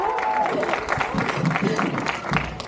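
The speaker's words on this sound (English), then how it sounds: "another loud round of applause would be great" Graduation guests applaud in a loud, dense round of clapping mixed with crowd murmur, with voices talking through it and some cheering tones early on.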